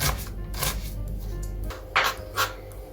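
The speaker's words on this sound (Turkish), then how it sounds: "Önce büyük bir soğanım var. Yemeklik doğruyorum." A knife chops a large onion on a board in a few close, rough strokes and scrapes, with no speech.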